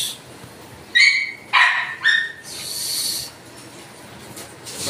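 Several dogs at a grooming shop give three sharp, high barks in quick succession, then a longer whining yelp, fairly close and loud with no talk over them.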